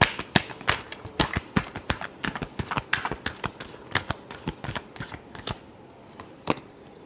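Tarot cards being shuffled, a rapid run of crisp riffling snaps and flutters, close and fairly loud, thinning out toward the end with no voices.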